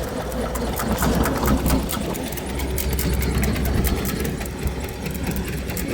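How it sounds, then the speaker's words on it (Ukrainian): A tractor engine drones steadily and loudly throughout while digging sakura saplings from heavy soil, with a low rumble and rattling mechanical noise under it, no speech. "Трошки тяжка земля, тому трактор аж заносить."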